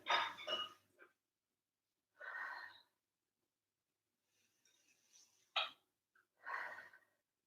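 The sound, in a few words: deep breathing during yoga pose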